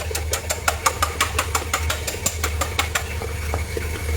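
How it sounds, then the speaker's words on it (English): Eggs, about 270 grams, are whisked in a bowl for a chocolate marble butter cake: quick, regular clicking taps of the whisk against the bowl, close and fairly loud over a low steady hum. "So I whisk my egg."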